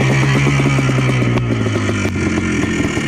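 A tuned Yamaha Blaster quad's two-stroke engine runs loud and close, revving steadily with a constant buzzing drone and rattly mechanical clatter throughout, no voices over it.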